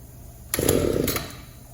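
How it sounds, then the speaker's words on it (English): A two-stroke engine with a carburetor being adjusted for lean running gives a short, close, raspy burst of revving that rises abruptly and then tapers off within about a second. "I'm going to go clockwise until the engine starts to stumble from running lean"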